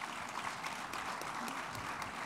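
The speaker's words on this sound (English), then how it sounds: "Please, just a warm round of applause to the panelists." A conference audience at the Transform Africa Summit 2018 claps steadily for a panel, a dense, even wash of applause heard from within the hall with no voices over it.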